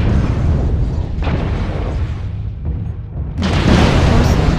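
Heavy booming airstrike explosions in the mech combat game MechWarrior Online roll in as a continuous loud rumbling barrage, swelling into a fresh blast near the end.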